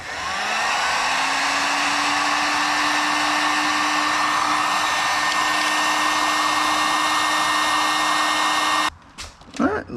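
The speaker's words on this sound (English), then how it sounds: "Use a heat gun, heat this up." Heat gun blowing on a crimped wire connector, a steady loud fan whir with a constant tone for nearly nine seconds, then shutting off with a few clicks.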